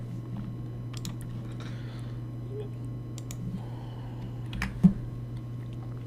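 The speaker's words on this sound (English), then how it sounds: "We type in the VIN number." A computer keyboard is tapped in sparse, quiet keystrokes as a vehicle VIN is entered, the soft clicks spread over a low steady hum in a quiet room.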